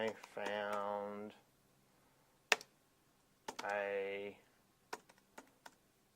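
Keystrokes on a computer keyboard come in a few sharp, scattered clicks between two stretches of talking, close and fairly quiet, with short pauses between the taps.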